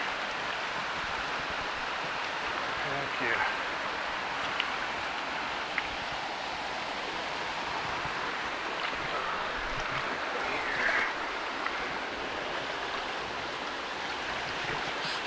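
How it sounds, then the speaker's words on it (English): Brook streaming steadily past a fly fisher on Little Stoney Creek in the Cascades, a continuous broadband rush of flowing water close by, with a brief spoken word and a few faint clicks. "Nice brook."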